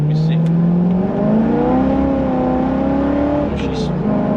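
C5 Corvette Z06 V8 engine pulling hard under throttle, a steady loud drone with pitch rising across the run, heard close from inside the car.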